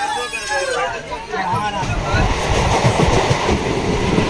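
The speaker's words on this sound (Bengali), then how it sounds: "জামতাড়া স্টেশনে দাঁড়িয়েছে, জামতাড়া স্টেশন ছাড়ছে" A train leaving Jamtara station rumbles and clatters along the rails, growing louder and steadier, with a murmur of voices and chatter mixed into the noise.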